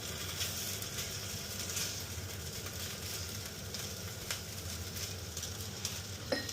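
Dinner frying in a pan, a soft steady sizzle with faint scraping and stirring, quiet and without voices.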